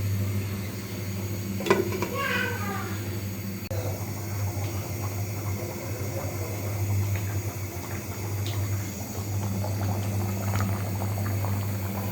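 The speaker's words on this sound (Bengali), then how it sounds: "তরকারি টকবক করে ফোটার কি সুন্দর সাউন্ড তাই না বন্ধুরা" A pot of curry boils quietly, a soft continuous bubbling over a low steady hum, with a few faint clinks near the start.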